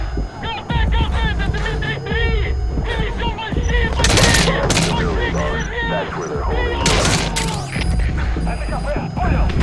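Gunfire rattles through Metal Gear Solid 5 as bursts of shots crack over dense game noise, with sharp loud volleys at intervals while someone talks throughout.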